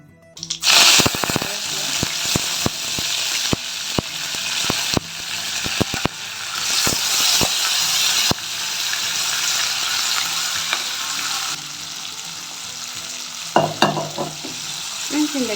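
Mustard seeds, urad dal and dried red chillies sizzling in hot oil for sundal tempering, a loud continuous crackle with sharp popping spatters and a few clanks of a spoon against the pan.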